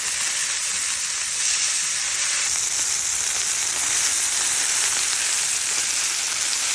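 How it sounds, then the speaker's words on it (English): Skirt steak sears in a hot pan, giving a dense, even hiss of sizzling fat that holds steady and loud from start to finish, with no talking. "I like to cook each side of the skirt steak about 2 to 4 minutes"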